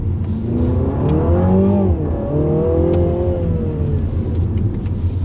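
A Mini JCW Clubman launching off the line with launch control at a Goodwood autosolo, the engine note climbing steadily and loudly through a rising rev sweep, close and continuous for the whole stretch.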